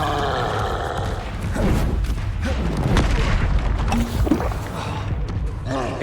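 Spell blasts from Incendio casts in Hogwarts Legacy boom repeatedly amid combat, several loud thuds and bursts layered over busy game noise, with a voice briefly heard.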